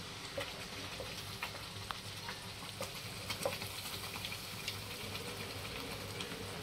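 Spice masala frying with onions in oil for a Marathi surmai fish curry, a soft continuous sizzle with faint light crackles and occasional stirring taps, quiet and steady with no speech.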